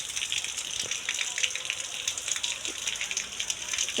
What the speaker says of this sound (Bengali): এটা তো পুরো ছাদ থেকে পানি পড়ছে